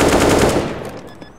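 Rapid automatic gunfire bursts loudly in an online video game, a fast rattling string of shots that cuts off after about half a second and leaves a decaying echo tail.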